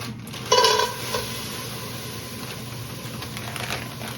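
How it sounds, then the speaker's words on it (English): Frozen broccoli is dumped into a cooking pot with a brief ringing clatter of pieces hitting the metal. A softer, steady sizzle and rustle continues close by afterward. "I'm just going to dump this in the pot"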